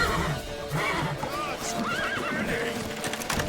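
A horse whinnies with wavering neighs amid hoof clip-clops and busy background noise, the sound continuous and fairly loud throughout.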